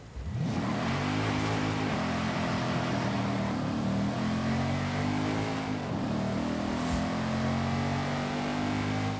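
Lexus RC F Track Edition in Forza Horizon 5 roars continuously, engine revving up and down with steady harmonic growl, loud and close, with no talk.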